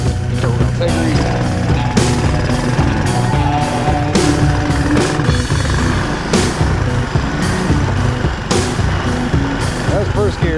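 A 1980 Honda ATC 185 three-wheeler with no air filter runs loud and close, its engine droning steadily throughout with rhythmic pulses, while people talk over it.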